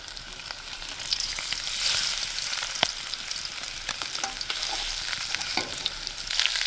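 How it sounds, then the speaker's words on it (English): Garlic and onion roast in a pan over a backcountry camp stove in Northern Ontario, a constant close frying hiss with occasional stirring scrapes and light knocks, moderately loud, no one speaking. "Roasted garlic and onion."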